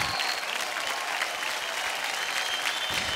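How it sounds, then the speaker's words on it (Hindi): A studio audience at a televised dance show applauds loudly and continuously in a dense, even roar of many hands, with no voices over it. "एक बार जोरदार तालियां हो जाएं।"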